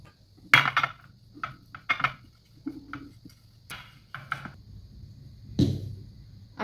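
Metal idli pots being oiled and handled: sharp clanks and light clinks come in irregular bursts, close by, with brief quiet gaps between knocks.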